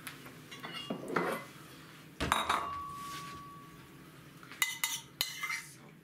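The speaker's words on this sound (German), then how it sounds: "ich lösche das jetzt mit ein bisschen Wasser" A metal utensil scrapes and clinks against a pan in several short bursts while deglazing with water after cooking beef rolls, with a ringing metallic tone lingering between them and a faint sizzle.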